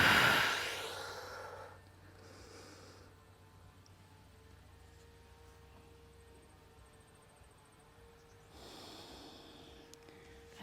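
A strong nasal exhale opens the final breaths of a yoga pose, followed by a long near-silent stretch, then another soft breath near the end; quiet and close.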